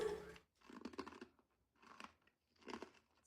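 Someone chews crunchy peanut caramel close to the microphone in four separate bursts of crunching and biting, quiet and with short pauses between, with no talking.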